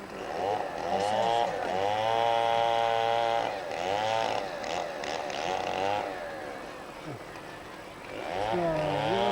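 A chainsaw cuts firewood in a small town, its engine loud and near, revving up and down in repeated surges with brief dips between cuts.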